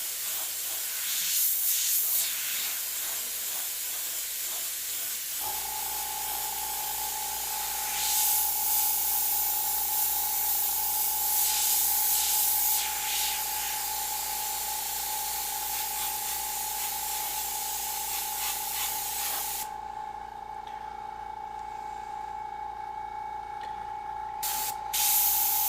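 Airbrush spraying paint freehand onto a snake design, a continuous close airy hiss running almost throughout with short bursts of spray and a faint steady compressor tone beneath.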